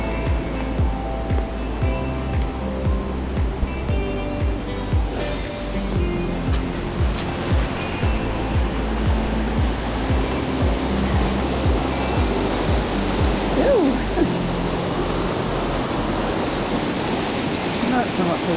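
Rushing water roars steadily along the Overland Track in Tasmania, a loud continuous wash of flowing stream with some brief ticking at the start and light movement mixed in.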